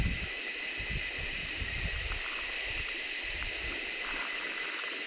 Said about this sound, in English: Here we are. This is Koondoo Creek.